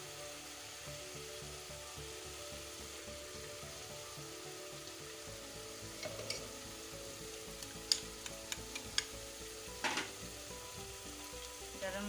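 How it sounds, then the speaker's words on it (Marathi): Masala sizzling steadily in hot oil as it is sautéed for a chicken curry, a continuous frying hiss with occasional sharp crackles and the clink of a stirring spoon against the pan. "मसाला मस्त परतून घेऊ।"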